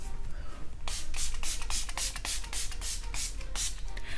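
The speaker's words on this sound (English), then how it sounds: "I'm just going to set my face with the Browny Make It Last Setting Spray" Several quick, crisp hisses of a makeup setting spray bottle pump in a loose rhythm, close up, each burst short and airy against a quiet room.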